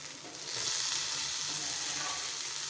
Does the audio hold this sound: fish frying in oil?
yes